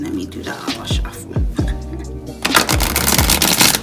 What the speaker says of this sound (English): Let me do the auto shuffle.